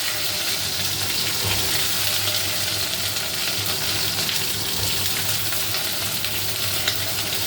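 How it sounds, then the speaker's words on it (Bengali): Pointed gourd (potol) fries in oil with cumin seeds and dried chilli, a dense, loud, continuous sizzle and crackle heard up close with no voices. "পটলগুলো ছেড়ে দিই, ভাজবো, ভেজে তুলে রাখবো।"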